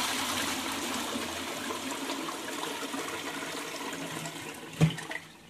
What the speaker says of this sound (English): it's all gurgling around here